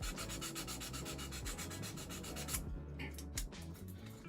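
Small model pieces are sanded by hand with quick, regular scratching strokes, close and soft, with a short break near the end, and no talking.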